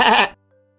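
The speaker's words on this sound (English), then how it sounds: "Sheep." A single sheep gives one short, loud bleat, heard alone and close, followed by near silence.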